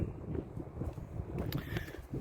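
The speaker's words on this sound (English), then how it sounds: "It's about 10 degrees out here and windy." Outdoor wind on a cold, roughly 10-degree day buffets the microphone with a steady, low, rumbling roar that lasts throughout and has no speech over it.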